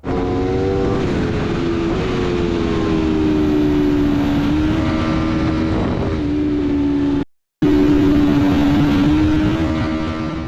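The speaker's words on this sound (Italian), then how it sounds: "la frizione rimane sempre aperta e si richiude solo quando riaccelero, quindi da un colpo che, scompone la moto" An Aprilia race motorcycle with a faulty clutch that stays open under braking, racing on a wet road circuit through woods at Schleiz; a loud, continuous engine drone with shifting pitch, briefly cutting out before resuming.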